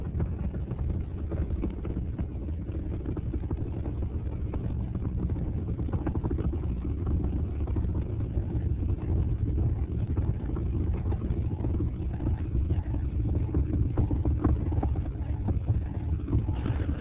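The Space Shuttle Atlantis main engines roar during launch as a steady, broad, distant rumble with crackling texture, muffled and sustained throughout.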